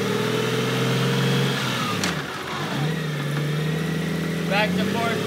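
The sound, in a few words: 2005 Honda Goldwing GL1800 motorcycle engine running through gear changes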